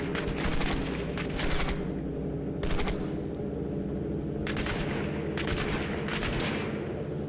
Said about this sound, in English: That guy is shooting at me while he's looking in a different direction